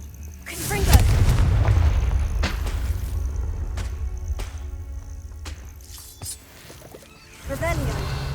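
Confringo fire spell explosions in Hogwarts Legacy land as a loud booming blast followed by a few softer thuds and crackles, with a player's voice speaking over the game sound.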